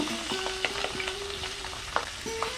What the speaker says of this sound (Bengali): তেল গরম হয়ে গেছে এখন মাছগুলো একে এক দিয়ে দেব